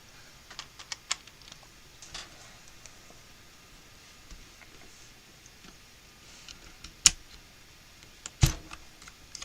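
Typing on a dark metal-gray low-profile keyboard, sparse soft key taps with a few louder clacks, quiet and close with no voice.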